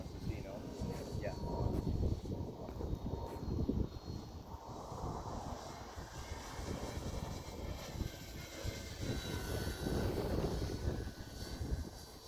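A scratch-built RC Cessna 310 model plane drones at full throttle outdoors, a steady engine hum with wind noise, heard under people talking throughout.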